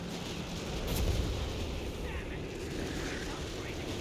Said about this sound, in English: Artillerying that sector.